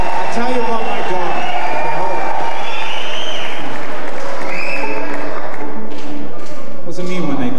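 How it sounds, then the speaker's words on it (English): A concert audience claps at a show in a music hall, loud dense applause mixed with crowd noise and voices, continuous throughout. "What does it mean when they clap for that?"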